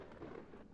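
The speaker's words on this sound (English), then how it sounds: "it's a bunch of thunderstorms" A thunderstorm recording triggered from keys: a low, steady rumble of rain and distant thunder, soft and continuous with no distinct strikes.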